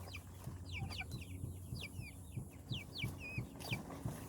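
Two roosters clucking in a garden at the end of the growing season, a steady run of short, fairly close clucks in even rhythm over a low background hum, with no talk.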